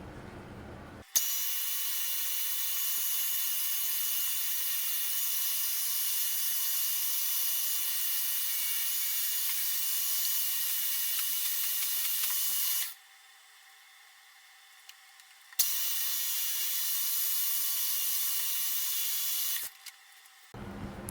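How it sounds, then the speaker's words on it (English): A milling machine running a 2mm 4-flute carbide end mill at 3200 RPM gives a steady high-pitched whine. It stops briefly, restarts, and then cuts out near the end. "4-flute carbide end mill 2mm, and we're running it at 3000 RPM"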